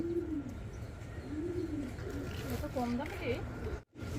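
Pigeons at a pigeon sale centre coo repeatedly in rising and falling calls, fairly close and clear over a low murmuring background, ending in a brief silence.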